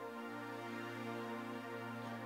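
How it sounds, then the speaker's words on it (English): A sustained synthesizer pad for a worship song keyboard part, played with its EQ fully bypassed, holds a steady, dense harmonic tone for the whole stretch at a soft, even level. "I suspend the EQ completely so that just the sound of the synthesizer comes through"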